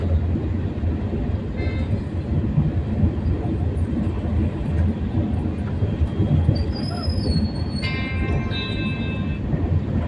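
A train at a Chennai railway platform gives a loud, steady rumble throughout, with brief high wheel squeals rising near the end.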